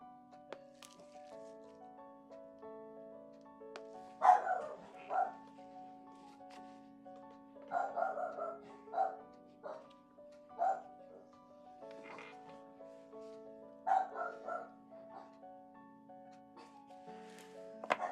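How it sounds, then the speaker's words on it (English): A dog barks in short, spaced yips and woofs at moderate distance, several separate bursts over a steady low hum, with no talk over them. "I'm not sure what he's barking at exactly."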